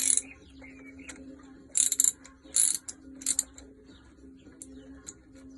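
A ratchet wrench backs bolts out of the clutch cover on a 1995 Yamaha Virago XV 250. Close, quiet clicking comes in short bursts with pauses between them, over a faint steady hum.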